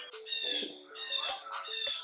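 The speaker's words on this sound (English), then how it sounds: "The birds in our backyard are very violent. It's like I'm listening to a screamo band every day." Backyard birds squawk loudly and harshly in three close bursts, each a raspy, shrieking call with short gaps between, near and alone with no talk.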